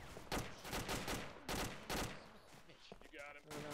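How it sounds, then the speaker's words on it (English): Rapid bursts of gunfire in a military team shooter game, several loud volleys at close range spaced across the moment, with a short electronic tone near the end. "They're firing at us from over the wall"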